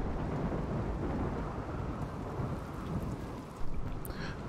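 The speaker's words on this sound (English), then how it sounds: "Thunderstorm, bang, kapow." A thunderstorm in the video game RimWorld: steady heavy rain hisses with a low rumble of thunder throughout, and a brief sharper crack near the end.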